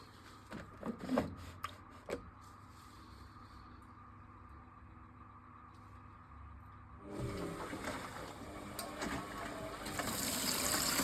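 A Hoover Ecologic computer washing machine begins filling with water. After a few knocks and clicks, the hiss of the inlet valves starts about midway and grows steadily, with faint voices nearby.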